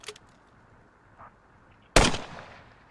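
A single loud, sharp gunshot in the military video game SquadOps, with a booming tail that decays over the following second, preceded by faint distant thumps.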